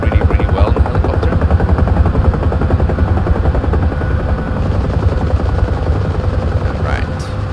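A UH-1 Huey helicopter in the DCS flight simulator, flying over Guam, gives a loud, steady rotor thump with a dense whine, continuous and close throughout the clip.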